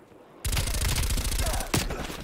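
An SMG fires a loud, rapid automatic burst in Call of Duty on the Nuketown '84 map. The shots start abruptly after a brief quiet moment and rattle on for nearly two seconds.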